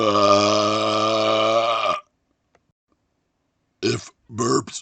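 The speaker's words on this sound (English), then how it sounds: "if burps offend you, I'm truly sorry" A long, loud, deliberate burp rumbles up close for about two seconds, then silence, followed by two shorter burps in quick succession.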